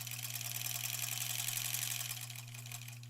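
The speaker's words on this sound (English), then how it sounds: "I'm just kind of sewing and not paying super close attention." A sewing machine stitching quilt sashing for a granny squares quilt, a steady, fairly quiet mechanical whir with a fast, even rhythm and a constant low hum, running alone without talk.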